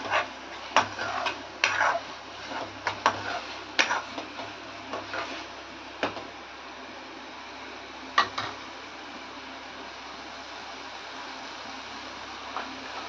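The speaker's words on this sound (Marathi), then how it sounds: "अगदी तेल रिलीज होईपर्यंत म्हणजे तेल सुटेपर्यंत परतून घ्यायचं आहे." Chole masala sautéed in oil in a pan until the oil separates: a soft, steady sizzle with sharp spoon scrapes and clinks against the metal, several in the first half, then quieter frying.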